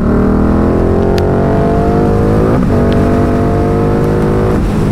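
A Ducati Diavel 1260 motorcycle engine pulls hard and loud, its pitch climbing through two rising sweeps with a brief dip between as the rider shifts, close and continuous.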